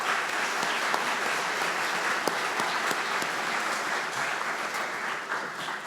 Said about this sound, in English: Let's give these individuals a round of applause for their support of KAMS and AMS students.